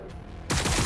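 Burst of video game gunfire in Warhammer 40k Battlesector, quiet for half a second and then breaking into a loud, dense barrage of shots that fills the rest of the moment.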